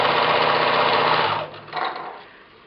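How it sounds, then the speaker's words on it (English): Sewing machine stitching through paper in a short steady whirring run that slows and stops, followed by a brief second burst, close and loud with no voice. "So you can just sew."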